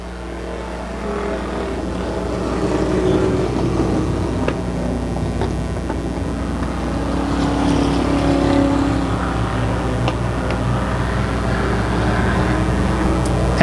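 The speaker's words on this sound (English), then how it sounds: "The 36 Plymouth makes his way up now on the outside of Bowie in the Charger" Vintage stock cars, including a 1936 Plymouth, a Charger and a 55 Buick, race in a tight pack through the turns of an oval track, their engines droning steadily and continuously at a distance, rising and falling slightly as they pass.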